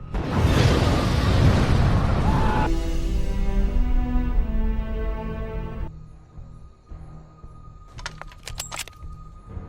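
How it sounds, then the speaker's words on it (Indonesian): A house exploding: a loud, rumbling blast fills the first couple of seconds, then fades into sustained ringing tones and a few faint clicks. "Rumah Mauna tiba-tiba meledak akibat bubuk korek api yang sempat Mona kumpulkan."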